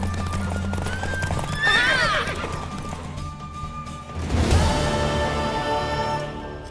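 A horse in The Witcher 3 gallops with steady hoofbeats and lets out two loud neighs amid in-game music and effects, the second whinny the strongest.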